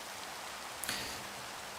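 Steady, soft rain hiss from the Minecraft video game, broadband and even, with one brief sharp tick near the middle and no voices.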